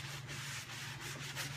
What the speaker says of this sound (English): all you have to do is go over this with your sanding block